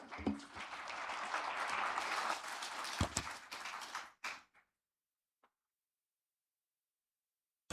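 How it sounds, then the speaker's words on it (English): Ambassadors' Conference audience at the Safari Park Hotel in Nairobi applauding His Excellency, a full burst of clapping that stops abruptly after about four seconds, leaving near silence with a faint click. "Another round of applause for His Excellency."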